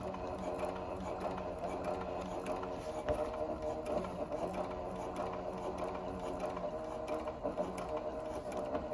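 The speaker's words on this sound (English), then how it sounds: "I'm going to sew it from this side" Sewing machine stitching a leather weekender bag, running in a steady continuous mechanical whir with a busy rhythmic clatter, close and fairly loud throughout, pausing only briefly.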